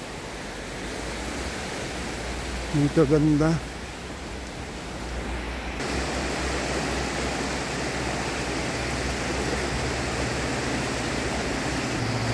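Steady broadband rushing of a flowing river in Saalbach, Salzburg, Austria fills the clip, with a short burst of speech near the start riding over the continuous roar.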